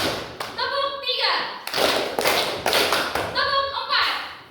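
Classroom of children clapping a set pattern in unison, several quick claps in a burst under a teacher's voice in a school lesson.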